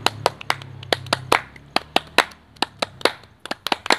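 Sharp hand claps in a cafe, about sixteen close, crisp claps in an uneven rhythm over a faint low background hum.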